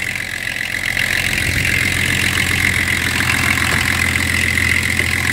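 A BMW M51 325 TDS diesel engine runs steadily at idle, a loud, continuous mechanical drone with a low rumble and a rattling upper hum. No clear revving rises above the steady tone.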